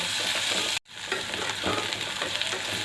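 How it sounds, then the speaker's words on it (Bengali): Onion frying lightly in a pan gives a steady, close crackling sizzle with stirring, briefly cut off by a short gap before the hiss resumes and continues evenly. "পেঁয়াজটাকে আমি হালকা ভাজবো বেশি ভাজবো না"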